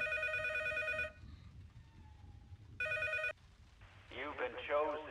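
An old-style telephone bell rings twice in the horror game P.T., each burst about a second long and separated by a quiet pause, followed by a distorted voice speaking over a low ambient hum.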